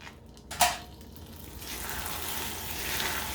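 Vanilla and butter stirred into a hot peanut brittle mixture, a sharp clink followed by a soft, steady sizzle that swells gently and continues close by.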